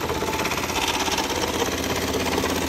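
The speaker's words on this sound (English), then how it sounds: "And then I can start sewing with the left pedal." Juki AMS industrial sewing machine stitching at speed with a rapid, even mechanical chatter of needle strokes, loud and close, running continuously with no talking.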